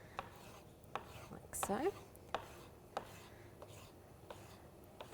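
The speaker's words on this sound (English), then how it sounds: "Now just slice that up really thinly" A knife thinly slices bottled vegetables on a board for tortellini with chicken and pesto. The soft, evenly spaced cuts are quiet and close, and a voice speaks briefly partway through.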